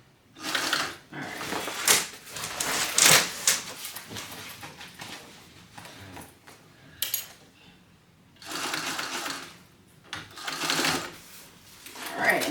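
A sewing machine stitches a seam at a 5/8 inch seam allowance, running in several short bursts separated by brief pauses, fairly close and moderately loud.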